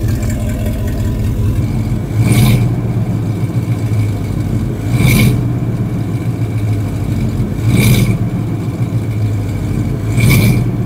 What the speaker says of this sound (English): Let me give it just a little bit of rev.